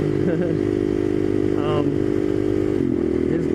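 A motorcycle carrying a passenger two-up cruises slowly, its engine a steady, close drone throughout, with a rider talking over it.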